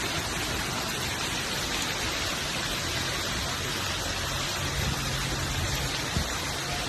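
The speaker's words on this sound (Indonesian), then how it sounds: "hujan es di daerah Nagrog." Hail falls with strong wind in Nagrog, Cianjur, producing a steady, loud, broadband hiss of pelting ice that continues unbroken throughout, with no voices.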